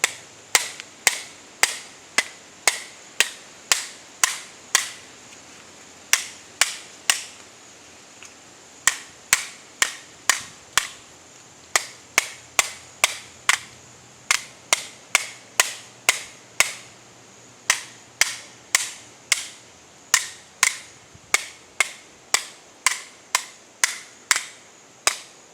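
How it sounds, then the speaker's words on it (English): A Sig Sauer P320 X Compact pistol being hammered and beaten repeatedly, giving a long run of sharp, loud, evenly spaced clacking impacts with brief pauses between bursts, close and without talk. "we are going to hammer this pistol"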